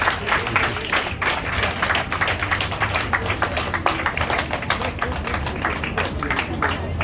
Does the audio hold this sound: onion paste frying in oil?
no